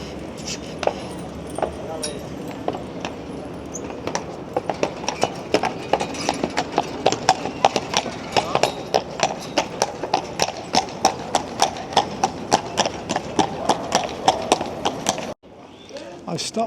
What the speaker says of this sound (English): Stunning looking horse.